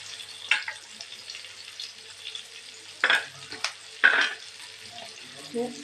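Masala is frying in oil in a pan for a fish dish, with a low sizzle underneath and several sharp scraping bursts as a utensil stirs it at irregular intervals, heard close up.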